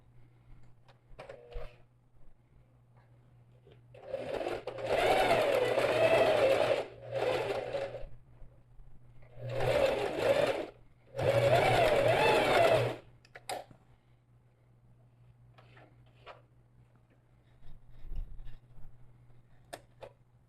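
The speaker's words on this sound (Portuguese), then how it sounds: "Agora eu posso vir e fazer a minha costura de segurança." A sewing machine stitches a safety seam on a small zippered pouch in four separate close bursts of rapid mechanical whirring. The bursts are broken by short pauses, and faint clicks and a steady low hum sit in the gaps.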